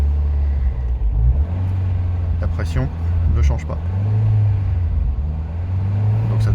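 A Ford Fiesta MK4 engine at an unsteady idle, a loud low rumble whose pitch drifts up and down, running under someone talking close by.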